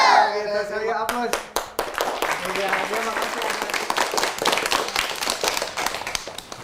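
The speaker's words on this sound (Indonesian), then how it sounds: "Kita sekali aplaus." Children applaud at a forest outing, a burst of many small hands clapping briskly and fairly loud, continuing steadily with some chatter mixed in.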